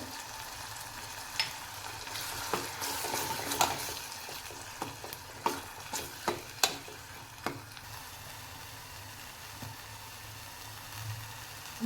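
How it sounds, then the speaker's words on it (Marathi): Ground garlic, green chili and ginger paste fry with onions in a pan: a soft, steady sizzle nearby, punctuated by a run of sharp spoon scrapes and taps from stirring, with no talking. "लसूण मिरची आणि आलं देखील परतलं गेलेलं आहे"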